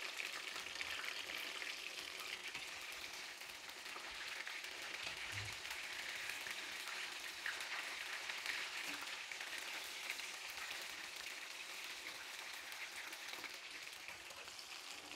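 Dabo chicken pieces frying in hot oil, a steady dense crackling sizzle heard close and unbroken throughout, with no talk.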